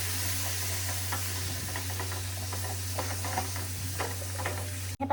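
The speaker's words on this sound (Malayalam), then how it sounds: "ഇപ്പോൾ നല്ലോണം തിളച്ച് വന്നിട്ടുണ്ട്." Kottayam-style mixed fish curry bubbling in a pot, a steady close simmering hiss with scattered soft pops and stirring scrapes under a constant low hum.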